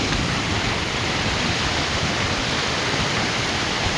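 Loud, constant rush of a village river in rainy-season flood, dense and roaring without pause, close by.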